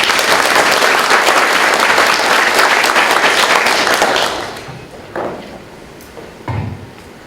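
An audience at a tap-water symposium applauds loudly to welcome a speaker, with dense, steady clapping that fades out after about four seconds into a few scattered claps and faint room noise.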